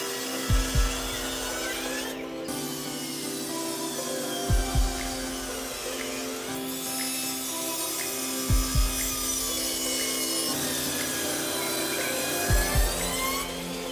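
A power saw cuts miters in wood for a floating platform bed, a sustained whining hum broken by four evenly spaced heavy thumps as each cut finishes, close and loud.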